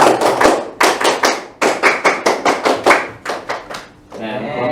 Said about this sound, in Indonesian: Oke, tepuk pramuka.